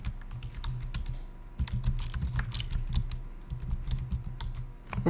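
Steady typing on a computer keyboard, close and clear, with quick irregular clusters of key clicks over a low room hum and no voices.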